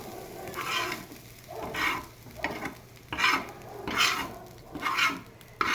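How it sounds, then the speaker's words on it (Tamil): Finely chopped large onions sauté in oil in a pan and are stirred in repeated rhythmic strokes. Each pass brings a burst of sizzling and scraping, with quieter frying between strokes. "நல்லா பெரிய வெங்காயத்தை எடுத்து நல்லா பொடிசாக நறுக்கி வச்சு இப்படி எண்ணெய் வெறும் சட்டியில் போட்டு மொதல் வதக்கிடணும்"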